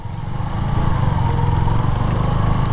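A motorcycle engine drones continuously at close range while riding downhill near Sajek, a low rumbling hum that rises slightly in loudness as it rides.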